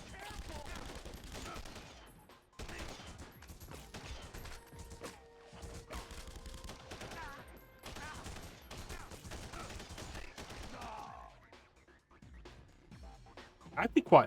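Rocket-propelled grenade launches and blasts in The Punisher video game, mixed with dense gunfire and explosions in repeated loud bursts over roughly eleven seconds, quieting briefly near the end.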